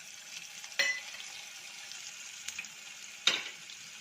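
Sun-dried vathal dropping into hot oil already crackling with mustard seeds and cumin, giving a soft, steady sizzle with two sharp spattering bursts, and no one speaking.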